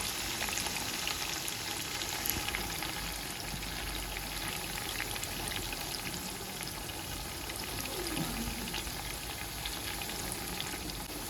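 Onions cooking down in oil in a pot for an okra stew, a soft, steady frying hiss with light bubbling and faint crackle, continuous and fairly quiet with no speech.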